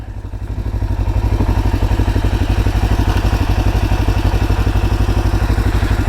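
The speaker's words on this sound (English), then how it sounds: "Engine noise is good too." A 2022 Segway Fugleman UTV with a parallel-twin engine idles up close, a steady, loud pulsing thrum with a faint mechanical clatter running evenly throughout.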